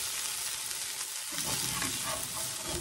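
Okra and potato hash sizzles steadily in a pan, and partway through comes a scraping shuffle as a spatula flips it, the frying hiss staying loud and close with no talking.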